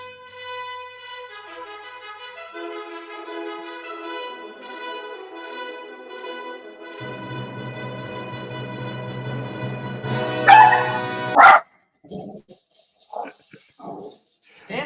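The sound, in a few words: dog barking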